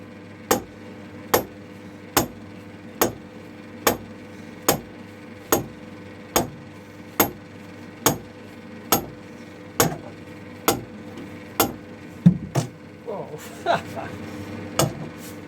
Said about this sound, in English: I brought the big hammer down, the sledgehammer